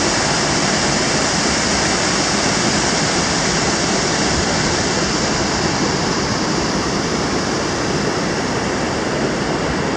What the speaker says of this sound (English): There's the falls right here.